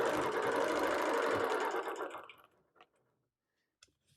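A sewing machine runs steadily at close range while ruler quilting a panel, whirring in a fast, even stitch for about two seconds before stopping, followed by a few faint clicks.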